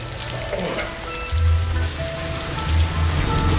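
Steady rain patters and hisses on a surface, a dense continuous wash of drops with a low rumble underneath.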